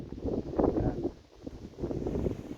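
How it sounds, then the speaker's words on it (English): Gusting wind buffets the microphone in low rumbling bursts, easing briefly in the middle before rushing back. "getting pretty windy out here anyway. Probably losing the sound with a lot of wind."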